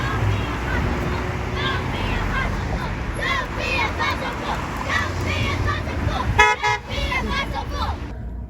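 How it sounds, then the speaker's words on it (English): Car horns toot repeatedly along a busy street during a climate protest march, several short honks clustering near the end over steady traffic rumble and a crowd chattering throughout. "people were honking their horns"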